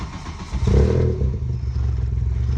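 A car engine fitted with a Euro intake manifold and G60 injectors fires up for the first time, a short loud catch and rev that drops into a rough, uneven idle, close and without speech.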